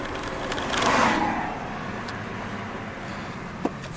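A 1993 Ford Ranger XLT Supercab engine swells in a brief rev around the downshift, then settles into a steady drone of road and cabin noise, with a small knock near the end.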